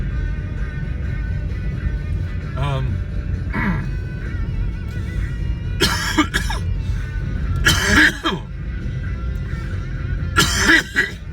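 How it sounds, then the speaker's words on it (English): Several bursts of harsh coughing and throat clearing, close by, separated by short pauses and growing more forceful toward the end. "I always get these coughing fits when I force myself to get up this time of the morning"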